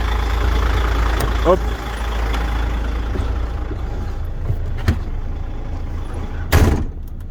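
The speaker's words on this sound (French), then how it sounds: "Je vais pouvoir dégager le tracteur et le remettre en position initiale." A semi-truck tractor unit idles with a steady low rumble, then pulls away from its unhitched trailer. A short hiss sounds near the end. A voice speaks briefly.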